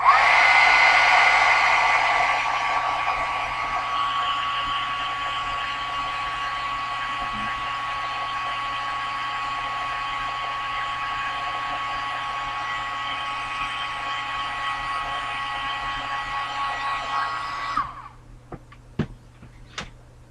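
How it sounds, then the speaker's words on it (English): A heat gun roars with a steady, loud stream of hot air over a Christmas envelope mini album for most of the stretch, then cuts off, followed by a few sharp taps. "once again, I'm going to hit it with the heat gun."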